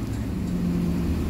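A 2007 Nova LFS city bus drives under its own power, its engine a steady low rumble throughout a brief moment with no clear gear shift.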